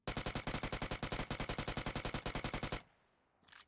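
Rapid automatic gunfire from PUBG Mobile rattles in a fast, even burst of about thirty loud close shots, then stops abruptly, leaving a faint trailing sound.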